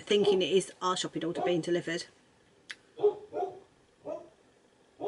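A person talks over a few sharp dog barks that come in short bursts at moderate distance, separated by quiet gaps.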